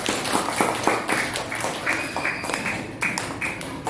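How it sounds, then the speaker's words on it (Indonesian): A class of schoolchildren clapping together, a steady patter of many hands going on for several seconds at moderate volume. "tepuk tangan yang meriah buat aku"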